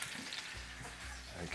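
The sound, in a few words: roast pig's head sizzling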